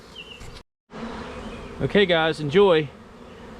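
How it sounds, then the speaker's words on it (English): Honeybees buzz busily as a swarm moves into a new deep frame hive box, a dense close hum that swells louder, with a person speaking briefly over it. "you can just watch the process of these bees working their way in to their new home"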